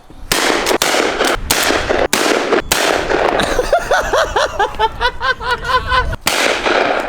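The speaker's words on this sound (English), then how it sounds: "We're gonna do some skeet shooting." Several loud shotgun blasts ring out outdoors during skeet shooting, spaced a second or so apart, followed by crackling bursts as shots keep coming.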